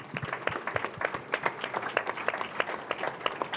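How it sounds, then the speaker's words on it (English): A modest audience claps for the organizer after an art-and-choreography panel conversation, with distinct individual claps in an irregular but steady patter, moderately close and fairly quiet. "A special applause for Claudio Vogt."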